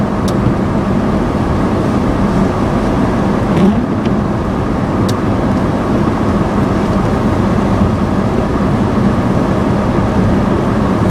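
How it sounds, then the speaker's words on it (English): A loud, constant fan roar fills a car interior while driving, a dense, unbroken rush mixed with road rumble and no talking. "I get so used to hearing the fan noise that I don't realize how loud it is."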